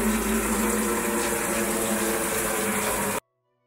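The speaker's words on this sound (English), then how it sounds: "we're going to turn on this faucet and immediately start our stopwatch here." Water from an RV faucet runs in a loud, steady rush for about three seconds, then cuts off abruptly to silence.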